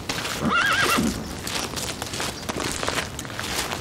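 A horse whinnies once near the start, then its hooves clip-clop at a walking pace, close by and fairly loud, with no talk over them.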